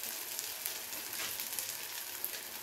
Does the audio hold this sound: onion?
yes